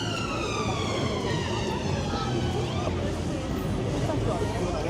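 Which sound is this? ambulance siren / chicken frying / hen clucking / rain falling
ambulance siren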